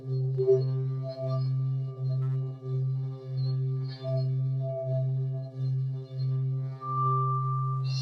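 A hand-beaten singing bowl rubbed with hard pressure gives a rhythmic, buzzing scratchy tone that pulses with each stroke instead of ringing smoothly.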